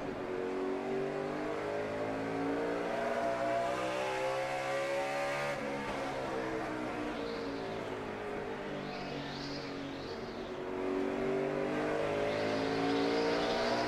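Onboard engine roar from a NASCAR stock car during a night race, a loud steady drone with gradual rev swells and a brief dip, alone without talk.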